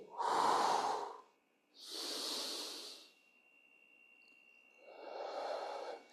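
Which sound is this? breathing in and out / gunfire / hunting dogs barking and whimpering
breathing in and out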